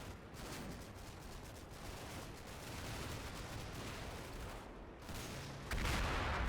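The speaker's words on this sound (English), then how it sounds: "he's just about starting with the mortars, I think. It's the blast" Mortar blasts in a war video game rumble steadily in the background, a dense, continuous roll of muffled booms and crackle, fairly faint and distant, swelling louder near the end.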